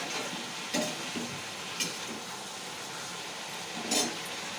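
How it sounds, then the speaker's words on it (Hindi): Chopped vegetables tempered in hot oil in a home kitchen pan, a steady close sizzle and hiss with a few brief stirring scrapes breaking through at intervals. "चलो दोस्तों, हमने छौंक दी सब्जी।"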